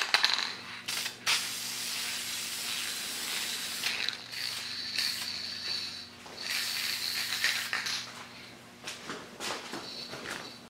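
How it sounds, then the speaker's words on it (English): A spray can puts lacquer onto turned jewelry made from bread, giving close hissing spray bursts separated by short gaps, with light handling clicks and no talk. "We're just going to hit it with a little bit of lacquer."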